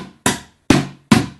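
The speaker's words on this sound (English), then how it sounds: "if you were to hit it on the top," A drumstick strikes the top of a plastic bucket three times, each a sharp, close hollow thump with a short decaying ring, evenly spaced with silence between hits.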